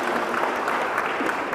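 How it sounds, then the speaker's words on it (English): Brief burst of dense hand-clapping from the audience at a Safe Streets community meeting at Great Overland Station, steady and continuous through the short stretch, with no voices heard over it. "Holly, give them a nice round of applause."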